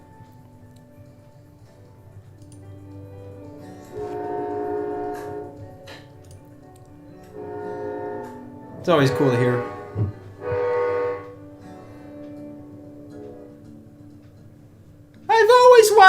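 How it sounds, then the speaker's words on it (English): A train horn sounds loudly in short blasts as operators mark a 3 p.m. Eastern Time salute during a rail shutdown, heard between stretches of talking and underlying rail noise. "operators are supposed to let out 2 1-second horn blasts at 3 p.m. Eastern Time"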